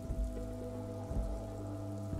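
Steady rain falls in Disco Elysium, a soft continuous patter under a low tonal hum from the game's ambience, with no voices.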